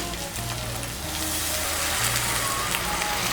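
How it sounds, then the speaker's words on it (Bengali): Hot water poured into a pan of okra and spice mixture for a Bengali bhindi curry, a steady hissing pour with rushing sizzle that stays loud and close throughout. "এর মধ্যে আমি দিয়ে দিচ্ছি 1 কাপ গরম জল"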